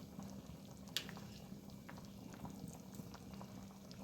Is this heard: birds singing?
no